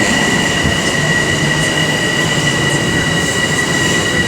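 A commuter train rolls into a Long Island station at Bellmore, a loud, steady rumble carrying high, sustained wheel squeal with faint clicking of the rails and no talking.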